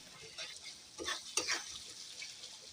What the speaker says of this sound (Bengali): মশলাটা খুব ভালো করে এমনি কষিয়ে নিতে হবে